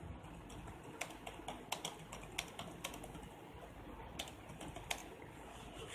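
Soft, quick keystrokes tapped on a computer keyboard while entering text into an Android emulator, an uneven run of light clicks heard close but faint against a quiet hiss.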